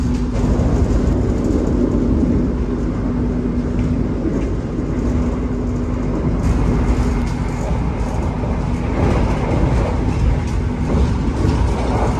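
Argo Semeru passenger train running between Surabaya and Jakarta, a steady loud rumble of wheels and carriage noise with a low hum throughout, heard close from inside or beside the moving train.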